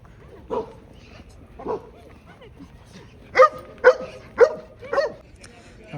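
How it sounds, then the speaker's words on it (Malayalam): Two puppies bark in short, high-pitched yips, about six separate barks spaced unevenly, fairly close, over a quiet background. "2 പട്ടിക്കുട്ടന്മാർ കുരയ്ക്കുന്നു."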